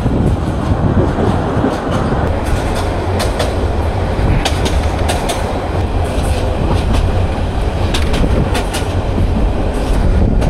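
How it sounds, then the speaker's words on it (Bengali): Nazirhat local train rolling through rural Bangladesh, a steady loud rumble of wheels with rhythmic clickety-clack over the rails heard from on board, continuous throughout with no voices; no distinct whistle stands out. "পোঁ পোঁ করে হুইসেল বাজিয়ে বাজিয়ে আমাদের ট্রেন কিন্তু এই গ্রাম বাংলার মধ্যেই এগিয়ে চলছে।"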